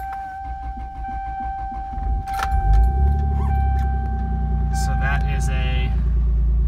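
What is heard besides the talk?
cold start of a 1994 Toyota Supra twin turbo engine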